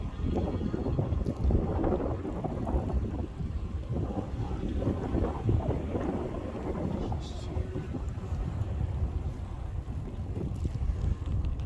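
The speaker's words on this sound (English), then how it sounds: "I don't know if you can hear over the wind." Steady wind buffets the microphone with a low rumbling roar throughout, loud and unbroken.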